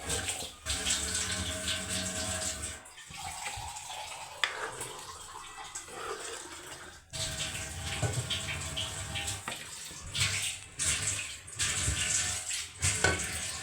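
Water pours and splashes steadily in a kitchen, with clinks of utensils and a few pauses, continuing for several seconds without speech.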